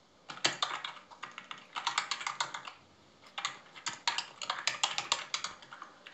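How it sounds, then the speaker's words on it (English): Keys clatter on a computer keyboard in quick, uneven bursts of close, crisp clicks, with a short pause midway and no voices. "You can hear me typing."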